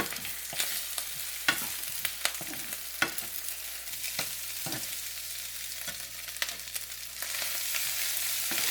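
Chicken garlic butter fried rice sizzles softly in a pan while a utensil scrapes and taps through it in uneven strokes, with the frying hiss swelling toward the end.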